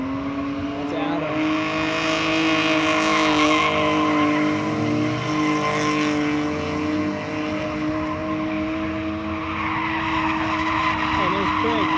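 Drift cars including a turbocharged Mustang skid through a drift event, tires squealing in long rising and falling wails over steady engine roar, loud and continuous throughout.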